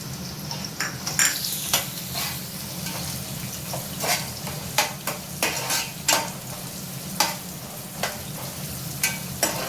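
Sliced onions and green chillies frying in a pan for chicken dum biryani, a continuous sizzle broken by regular spatula scrapes and clinks, close up with no one speaking.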